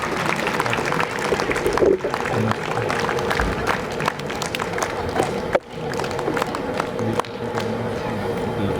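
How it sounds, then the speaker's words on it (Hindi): A crowd at a school's annual sports day in Ranchi applauds to welcome the guests, with steady broad clapping mixed with crowd noise and voices under it throughout. "जोरदार तालियां बजाकर हम सभी अतिथियों का अभिनंदन करें"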